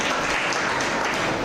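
An audience of senior citizens at a Madurai community association hall claps together in a dense, steady burst of applause.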